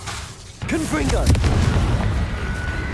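Confringo blast in the Hogwarts Legacy game: a heavy booming explosion erupts after a brief lull and rumbles on, with sharp crackling bursts and a shouted voice over the din.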